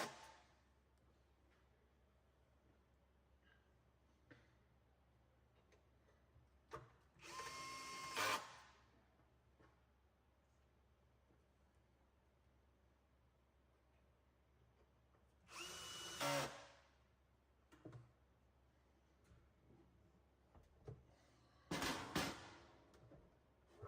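A power screwdriver drives the PSU retaining screws into a SEALMINER hydro-cooled miner chassis, giving three short whirring bursts separated by quiet pauses.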